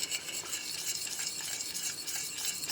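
Flour being stirred into melted butter for a homemade roux, a quiet, continuous scraping and swishing of a utensil against the pan, up close with a faint sizzle beneath.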